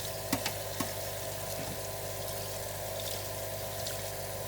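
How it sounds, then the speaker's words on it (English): Running water rinses drained chickpeas in a colander, a steady close hiss and patter with a few light knocks near the start. "Drain in the colander and I'm just going to make it rinse."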